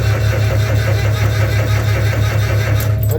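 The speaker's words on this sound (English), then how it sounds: "then I crank the engine just to get some oil going through them" An Onan or Perkins engine being cranked over to get oil and fuel moving through its cylinders, with a steady, loud low mechanical drone that runs unbroken throughout and no voices.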